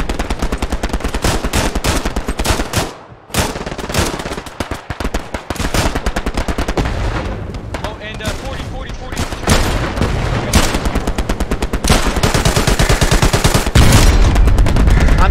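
Dense, loud gunfire in Hell Let Loose, close machine-gun bursts and rifle shots rattling almost without pause, with a brief lull before firing resumes.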